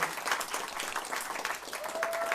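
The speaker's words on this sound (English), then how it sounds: "give them a round of applause" A crowd applauds steadily throughout, dense clapping filling the room at moderate loudness with no pauses.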